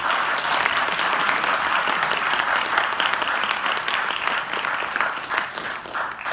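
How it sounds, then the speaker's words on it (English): Sustained audience applause for the actors at a Gandhi Jayanti stage play, dense steady clapping from a large crowd filling the whole stretch at an even level. "so please give them another round of applause."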